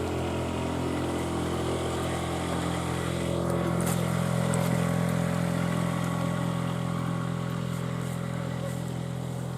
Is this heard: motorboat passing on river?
yes